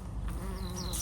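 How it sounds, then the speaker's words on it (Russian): Bees buzz steadily close by around sage in a garden, a soft continuous hum with no voices. "Шалфей опыляют пчелы."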